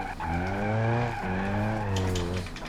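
In BeamNG.drive, a car engine revs in a rising and falling whine while the tires squeal in a skid, loud and close throughout.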